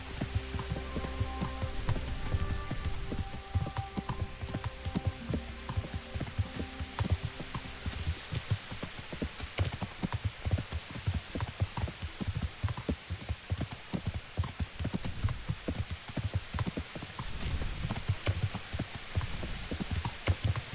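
Steady rain pours in the medieval role-playing game Kingdom Come: Deliverance, a dense patter of drops hitting surfaces that carries on throughout, with faint tonal game music fading out in the first few seconds.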